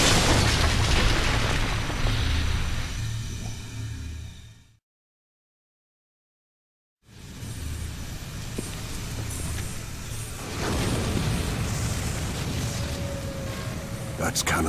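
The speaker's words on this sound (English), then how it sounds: "That's cannon fire." Cannon fire in the video game The Last Story, heard as booming blasts with heavy low rumble, cut by a brief silent gap, then continuing as layered explosive bursts under game audio and voices.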